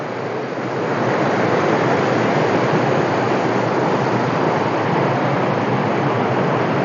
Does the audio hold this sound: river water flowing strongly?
yes